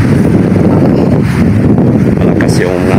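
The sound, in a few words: strong southwest monsoon wind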